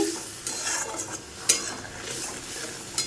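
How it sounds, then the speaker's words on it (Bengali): Spice paste for a fish curry is sautéed and stirred in a pan, brief uneven scraping strokes and clinks of a spoon over a soft sizzle. "এখানে মাছের ঝোল মশলা কষানো হচ্ছে"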